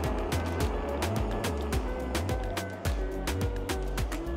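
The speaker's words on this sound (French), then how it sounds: "Ça freine bien, ça freine bien." An Isinwheel GT2 electric scooter braking from speed outdoors: a steady wind-buffeted motor hum with repeated low rumbling pulses and sharp ticks, close and fairly loud throughout.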